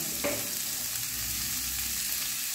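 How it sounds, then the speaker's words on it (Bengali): A spoonful each of chilli powder and turmeric frying in hot oil, giving a steady, close broadband sizzle with one brief sharper crackle near the start and no voices. "দেখুন 1 চামচ আমি গুঁড়ো লঙ্কা দিলাম, বড় চামচের 1 চামচ হলুদ দিলাম।"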